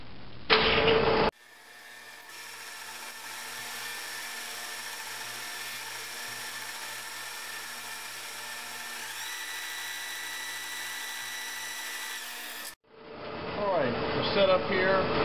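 A metal lathe takes a light skim cut on a workpiece. A steady, loud machining whine holds for about eleven seconds, with a shift in pitch partway through, and is framed by brief speech at the start and end.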